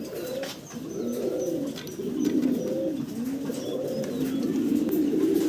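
A pair of Spanish fancy pigeons coo repeatedly in soft, rolling phrases, close by and steady, with faint chirps in the background.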